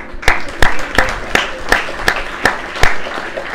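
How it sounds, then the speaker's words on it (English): Hands clap in slow, even unison, about nine sharp claps spaced roughly a third of a second apart, close and distinct over a quiet room murmur. "Clap your hand."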